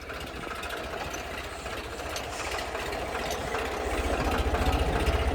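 A village tractor engine runs steadily nearby, its low rumbling idle with a knocking pulse growing slightly louder toward the end, with no voices over it.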